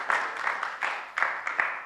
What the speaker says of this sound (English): Another round of applause to Professor and team.